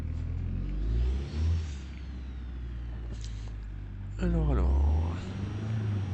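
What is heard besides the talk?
car engine driving in video game BeamNG.drive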